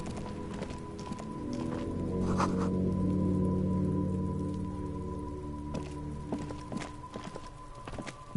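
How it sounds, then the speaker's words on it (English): Steady rain falling in a city street in a detective game, a continuous patter and hiss with scattered drips, accompanied by hollow rhythmic footstep-like knocks and a low tonal hum underneath. "This rain will not let up anytime soon."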